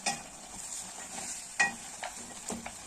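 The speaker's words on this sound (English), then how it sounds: "So I just want to stir." Onions and goat meat stirred in a frying pot, a spoon scraping and clinking against the metal now and then over a steady soft sizzle, with a sharper scrape near the middle.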